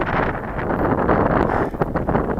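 Strong wind roars continuously against a drone and its microphone in a dense, buffeting rumble that stays loud and close throughout.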